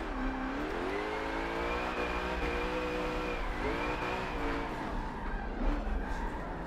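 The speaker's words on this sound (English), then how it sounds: "Little throttle blip to get ourselves sideways." Koenigsegg Agera drifting in the racing game Forza 7, with a loud engine revving and a throttle blip that bends its pitch up and down, tires squealing as the car slides sideways, and no talking.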